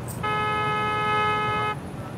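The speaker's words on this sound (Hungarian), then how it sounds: "Nyomjátok a dudát." A car horn in the Parking Lot Simulator video game blares as one steady, loud honk lasting about a second and a half over a constant background hum.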